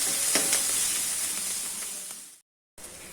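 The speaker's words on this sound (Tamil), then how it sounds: "வெங்காயம் நல்லா வதங்கணும்." Onions and curry leaves sauté in a pan, giving a steady, bright frying sizzle and hiss that cuts out briefly near the end and then resumes, with no voices.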